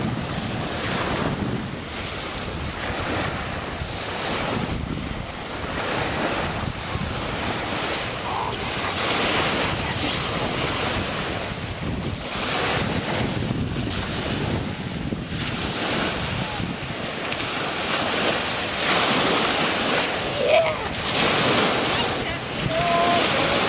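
Steady breeze rushes across the microphone on a lake shore in Whitby, Ontario, with a constant wash of waves underneath, loud and continuous for over twenty seconds.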